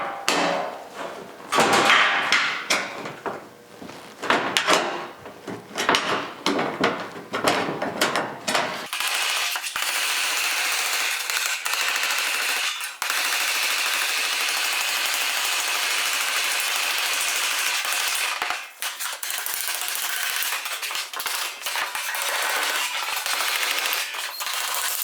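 Sheet metal for a fender flange on a '74 Charger being hammered into a bend, a rapid burst of sharp metallic blows followed by a long, steady mechanical whir with a few clanks.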